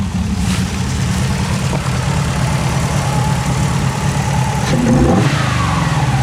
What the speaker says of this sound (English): But when I go here to rev it up,